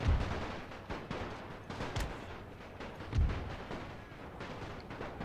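Battlefield gunfire and artillery from The Great War 6.0, a World War I strategy game, in an Austro-Hungarian battle. Booming low thuds and crackling shots overlap at moderate distance, with heavy blasts near the start and around the three-second mark.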